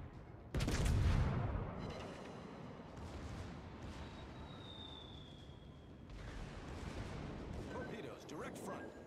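Warship guns fire in a naval battle game as one heavy close boom, followed by a long rumbling decay and later blasts, with a faint whistling tone and voices heard over the din.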